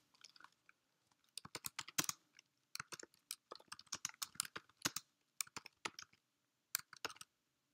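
Terminal commands typed on a computer keyboard: bursts of sharp, close key clicks in quick uneven clusters with short pauses between, clear and alone.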